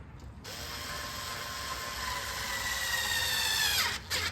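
Screws being tightened on a Husqvarna 125B leaf blower during an impeller replacement, a steady close mechanical ratcheting whir that runs for several seconds and then stops abruptly.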